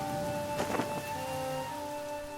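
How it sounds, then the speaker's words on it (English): Rain falling in the video game Masquerada: Songs and Shadows, a steady soft hiss under sustained musical tones, with a brief rougher patter partway through and no talking. "It's raining everywhere."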